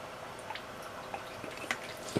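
Water drips from damaged plant leaves draining into a bowl, a few faint, irregular soft plinks over quiet background.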